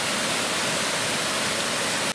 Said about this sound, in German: Ich bin jetzt nochmal über dem Wasserfall von einem der ersten Tage hier.